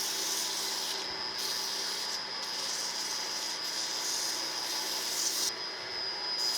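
Wood chisel being sanded with 120 grit sandpaper: a steady, close abrasive rubbing hiss that runs continuously with slight strokes and brief pauses, no talking.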